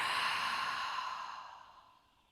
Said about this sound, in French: on va prendre encore une inspiration par le nez et une expire par la bouche